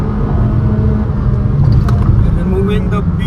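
A 2023 Honda Elevate ZX CVT compact SUV accelerates hard, its engine rumbling loud and continuous with road noise beneath, while a person talks over it.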